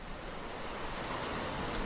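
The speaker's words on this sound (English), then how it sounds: "Start with a little white noise" Steady broadband white noise, soft and even throughout, forming the opening layer of a breathing-guided meditation music track with no other sounds.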